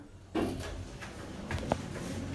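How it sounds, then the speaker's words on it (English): Otis 200 elevator doors sliding open after a lift stops at a floor, a sudden mechanical onset followed by a soft rumbling slide with a brief clunk near the end, moderately loud. "Doors opening."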